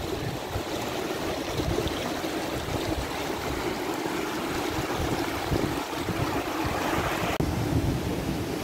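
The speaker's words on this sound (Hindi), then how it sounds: "वाटरफॉल के दर्शन हो गए।" Steady rushing water of a waterfall in Manali, a constant broadband roar with wind buffeting the microphone, loud and unbroken throughout with no talking.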